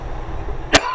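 A single sharp cough, close and loud, rising abruptly out of low background noise.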